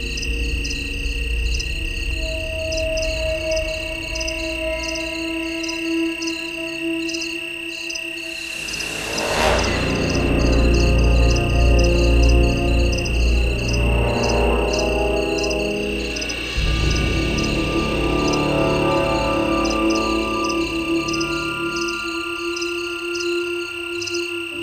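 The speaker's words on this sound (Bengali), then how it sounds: "বেশ রাত, যদিও চারদিকে ঝিঝি পোকার ডাক" Crickets chirp at night in Lawachara forest in Bangladesh as a dense, continuous pulsing trill that runs throughout, with a louder rustling swell around the middle and no speech.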